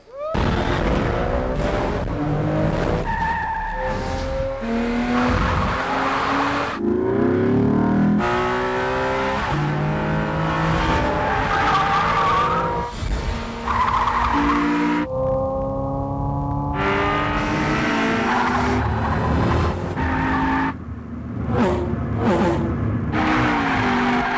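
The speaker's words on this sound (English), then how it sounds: "Ladies and gentlemen, start your engines." Race car engines roar and rev loudly and continuously, with skidding and squealing tires, in a racing game shown at the live E3 2005 event.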